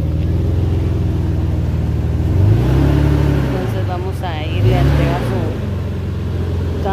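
A car engine rumbles close by and revs twice as the car rolls in through an opened gate onto a very narrow street, with people speaking over the steady motor.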